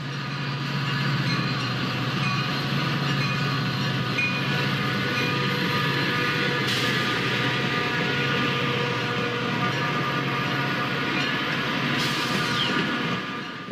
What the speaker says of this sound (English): These 15 locomotives, built in 1974, are the only ones of this model ever produced and are unique to Metra.